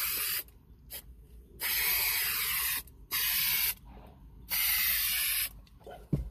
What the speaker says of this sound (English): all you're going to do is just spray the roof itself